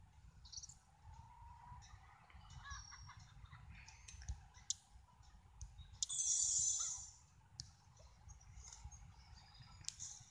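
Chickens in the HayDay farming game being fed, with soft clucks, chirps and repeated interface clicks, and a brief brighter chime burst partway through, all quiet over low background hum.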